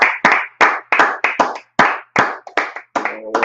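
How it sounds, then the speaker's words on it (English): An audience claps hands in uneven, closely spaced bursts, about a dozen sharp claps ringing loud and near, with no talking over them. "Let's clap it up. Clap it up,"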